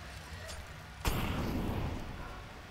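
Grenades going off in CS:GO during a tournament match: one sharp, loud blast followed by a rumbling, sustained roar, heard over a low background murmur.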